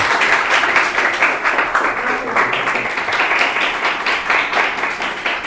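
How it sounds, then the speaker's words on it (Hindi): An audience at a school results ceremony breaks into loud, sustained clapping that runs steadily throughout without any voice over it. "जितनी ताली बजाओगे उतना उत्साहवर्धन होगा"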